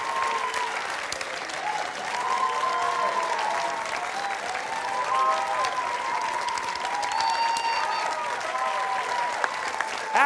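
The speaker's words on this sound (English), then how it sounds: "Nice round of applause for both teams." Studio audience applauding both teams at the close of a tight high school quiz show match, a steady sustained wash of clapping that holds for ten seconds with faint voices mixed in.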